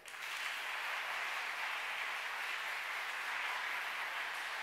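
Large audience at a talk event applauds on request, a dense, even roar of clapping that starts abruptly and holds steady without voices.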